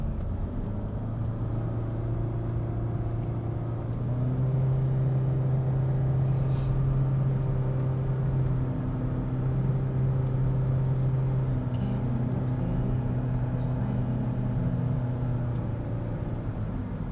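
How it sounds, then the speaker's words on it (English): Low, steady car engine hum that rises and holds under load as the car climbs hills, with faint rattles and road rumble, no talking. "you can hear the car trying to go up the hills"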